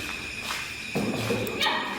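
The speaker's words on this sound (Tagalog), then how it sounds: "May aso. May aso." A dog gives a couple of short, sharp barks and a yip, close and fairly loud, with a dull thump in between.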